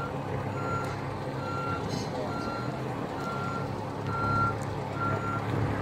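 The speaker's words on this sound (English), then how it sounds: "Truck is actually backing up with their day's supply of materials for the day's delivery" Semi-truck reversing at a river aggregate site, its backup alarm beeping in a steady evenly spaced rhythm over a rumbling diesel idle, moderately loud.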